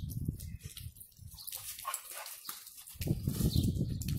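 A dog barks and yips in short excited bursts, close and fairly loud, mixed with rustling and scuffling noise.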